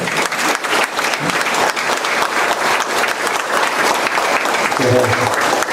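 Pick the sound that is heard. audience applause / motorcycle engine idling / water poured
audience applause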